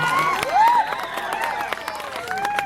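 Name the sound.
audience applause for Golu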